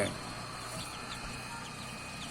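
Faint, high peeping chirps from newly hatched bantam chicks inside an incubator repeat steadily over the incubator's low, constant hum, with soft clucking tones mixed in.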